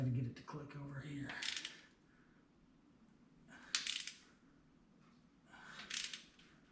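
Clicks and metallic rattling while a part is worked into place on a 1968 Mopar 383 engine during a 4-barrel carburetor swap, coming in three brief bursts over a quiet background.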